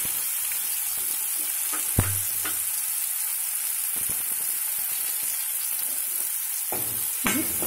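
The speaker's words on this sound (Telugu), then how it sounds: "ఆల్రెడీ ఇందులో సాల్ట్ వేసాం కదా, అందువల్ల ఆనియన్ బాగానే వేగుతాయి" Chopped onions fry in hot oil with cumin seeds and salt in a pan, giving a steady, loud sizzle with a few sharp clinks and scrapes of stirring.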